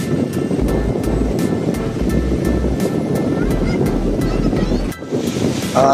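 Water rushing from the Srisailam dam in a continuous, dense roar that stays loud and steady throughout, with no clear break.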